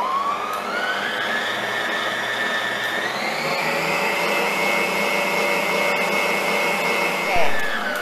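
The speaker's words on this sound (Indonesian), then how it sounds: "Di sini aku menggunakan speed 5 untuk mixer EcoHome." An EcoHome stand mixer running at speed 5 mixing a cake batter, a loud, steady motor whine that climbs slightly in pitch partway through and continues without pause, with no talking.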